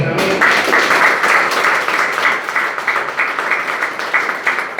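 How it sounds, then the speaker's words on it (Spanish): A church congregation claps along, producing steady, rhythmic hand claps that fill the room at a fairly loud level for the whole stretch. "Vamos a darle un aplauso al Señor."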